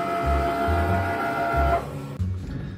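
A vinyl cutting machine cuts out letters for a custom chalkboard bar tariff design, its motor whirring in rhythmic buzzing strokes and carriage movements, loud and close with no talk.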